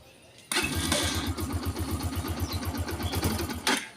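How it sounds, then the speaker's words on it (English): A brand-new, three-week-old Yamaha XTZ 125 motorcycle with a cutting-out fault fires up abruptly and idles with a rough, pulsing single-cylinder thud, loud and close, before the engine dies away after a few seconds. "XTZ, Yamaha, brand new bike, 3 weeks old, and she's cutting out."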